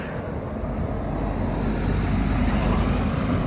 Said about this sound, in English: Cars, noisy.